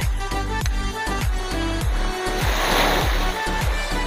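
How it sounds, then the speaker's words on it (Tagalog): Waves roll and wash onto the shore at Sawanga Beach in Bacon, a steady loud surf with a churning rush in the middle, overlaid by a repeating low rhythmic pulse throughout. "Lumalaki ng alon, no?"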